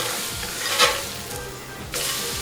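A burger patty sizzles loudly and steadily on the grill after being flipped, with a few scrapes and knocks from the spatula over the constant frying hiss, close up and with no talking.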